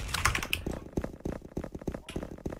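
Computer keyboard typing in rapid, uneven bursts of close, crisp key clicks for a few seconds, with no voice over it.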